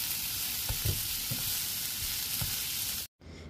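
Potato filling with a handful of carrot and zucchini stir-fried briefly in a pan, a loud continuous sizzle with a few soft stirring scrapes, ending in a sudden short cut-off.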